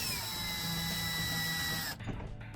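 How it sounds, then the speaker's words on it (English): Screws are driven into the outside key handle plate of a Wayne Dalton 9100 garage door with a power drill, giving a steady close whine that cuts off near the end, followed by a few small clicks. "we want to make sure that we get our screws fastened to make sure that it is nice and secure."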